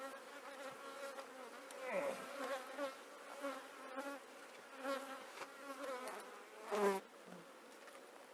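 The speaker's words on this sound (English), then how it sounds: "There's too many bees in here, I think, for them to have swarmed recently." Honeybees buzzing in a dense, steady drone throughout a hive inspection, close and moderately loud, with individual bees swelling past nearby and a brief voice exclaiming.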